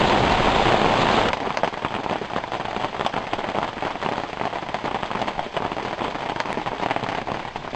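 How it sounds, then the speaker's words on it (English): Steady heavy rain patters and crackles on a surface nearby, a dense continuous rush that eases slightly after the first second. "Listen to that rain, eh?"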